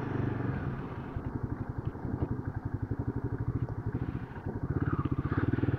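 A motorcycle on a 70-kilometre ride from Hanamkonda to Thorrur throbs with a loud, rapid engine pulse close by, its rhythm steady with slight surges and dips.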